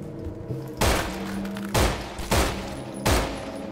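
Gunfire in the zombie shooter No More Room in Hell: four loud, close, booming shots spaced about a second apart, each with a short decaying tail over low game ambience.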